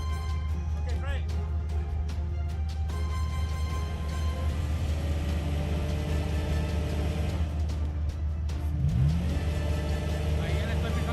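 A four-wheel-drive vehicle's engine revs steadily and loudly during a recovery on tilted ground, a sustained low rumble with rising pushes, while people talk over it.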